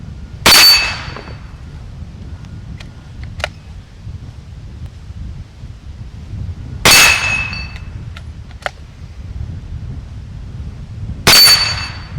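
Three loud, sharp shots from a 9mm lever-action rifle, spaced several seconds apart, each followed by a ringing clang from steel targets, with faint metallic lever clicks and quiet ambient noise in between.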